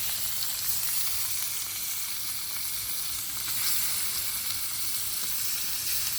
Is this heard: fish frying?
yes